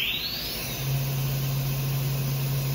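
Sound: Techno HDS CNC router spindle running at 8000 RPM

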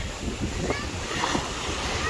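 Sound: ocean waves

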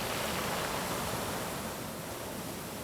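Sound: sea waves breaking on pebble beach

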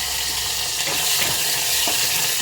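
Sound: dried fish frying in hot oil

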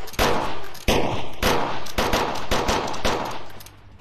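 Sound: revolver shots in a Wild West VR video game

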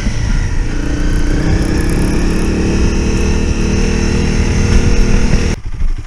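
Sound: motorcycle engine running

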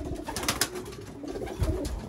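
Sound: pigeons cooing in a breeding loft

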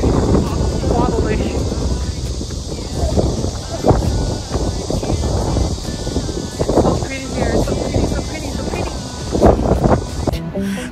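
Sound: strong wind on a bridge

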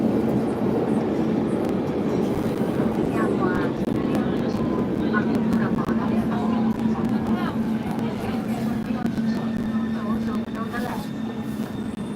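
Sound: metro train running at speed

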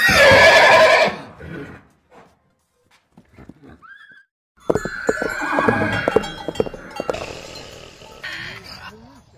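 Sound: horse neighing

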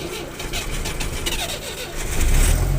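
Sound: car engine cranking with starter, failing to start

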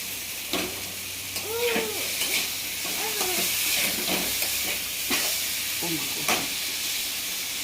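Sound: frying red lentil fritters (dal bora)

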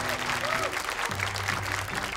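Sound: audience applause for the 13 remaining children

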